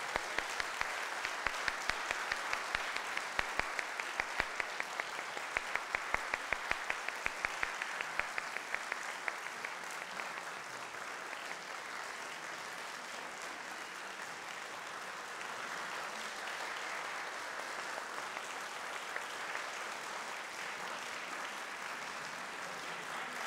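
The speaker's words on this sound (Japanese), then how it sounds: "もう一度ステージ上の演奏者に拍手をお届けくださいませ" Audience applause for performers at the 2018 Ninomiya International Children's Music Festival: a long, dense round of clapping, loudest and most rhythmic early on, then settling into a softer, steady wash that carries on to the end.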